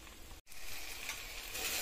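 Tomatoes frying with a little salt in a pan give a steady, close, hissing sizzle that drops out for a split second before resuming at an even level.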